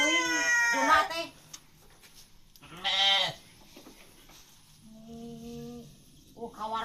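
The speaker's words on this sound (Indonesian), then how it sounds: "Garaneng domba teh siga nu cari paraban wae." Sheep bleat in several separate wavering calls, one loud burst at the start, another about two seconds later, then softer bleats toward the end, with pauses between them.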